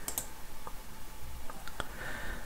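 A few sharp computer mouse clicks sound close by in a quiet room while someone changes Windows 10 settings, spaced irregularly with a faint background hiss.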